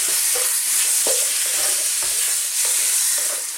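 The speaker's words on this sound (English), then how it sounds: "I'm going to cook this just on its own, so about 3 to 4 minutes I'd imagine on this heat." Bacon sizzling on its own in a dry pan with no oil, a steady broadband crackle with soft stirring knocks and pops throughout, close and fairly loud, no talking.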